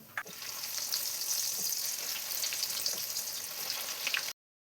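Soya cutlets frying in hot oil, a steady close hiss and crackle that holds evenly before stopping abruptly; no voices.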